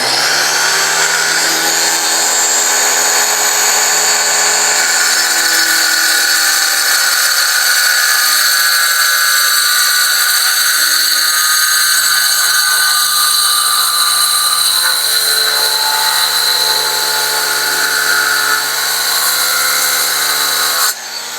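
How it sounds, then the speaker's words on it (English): A saw with a steady, loud whine plunges into porcelain tile, the blade rolled from its nose back down into the cut, with a sustained high-pitched grinding tone that holds for about twenty seconds and shifts slightly near the end. "let's start with a plunge cut. I'm going to start on the nose of the saw, and I'm going to roll it backwards down into the cut"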